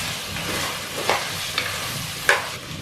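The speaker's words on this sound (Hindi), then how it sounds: "अब हम कढ़ाई में घी डाल लेंगे। इतना आपने घी डाल लेना है और इसके अंदर मटन डाल देंगे।" Mutton cooking in ghee in a kadai sizzles steadily at close range, with a few sharp scrapes or clinks from stirring.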